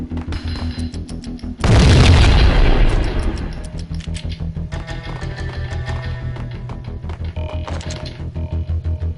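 Bomb explosion in the PlayStation 2 game Max Payne, a single loud, close boom with a deep rumbling tail that slowly fades into steady ticking game sounds.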